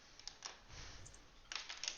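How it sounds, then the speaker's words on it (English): Keys clatter on a computer keyboard in quick, uneven bursts of taps, with a pause in the middle and then a denser run near the end. The sound is close and fairly quiet, and no one speaks. "See typing."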